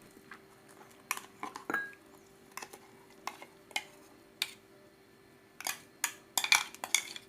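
Onion chutney (thuvayal) scraped from a grinder jar into a bowl at home, heard as scattered light clinks and scrapes of utensils on metal, close and fairly quiet, with a denser cluster of clatter near the end.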